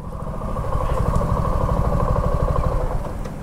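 A Suzuki V-Strom motorcycle engine runs close by with an unusual sound, a steady, rapid, throbbing rumble with light clatter that holds at an even level throughout.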